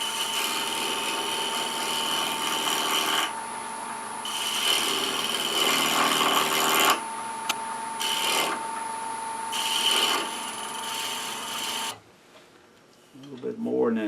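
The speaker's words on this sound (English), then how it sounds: "I think I'm going to do a slight pull cut." Wood lathe pull cut on a garlic keeper box, a steady loud turning hiss with a constant motor whine, broken by brief pauses and tool contact changes, then spinning down to near quiet at the end.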